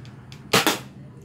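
A sharp double-crack shot from a spring airsoft sniper rifle snaps close by during a test firing, a quick spring-driven pop with a brief echo, preceded by faint clicks.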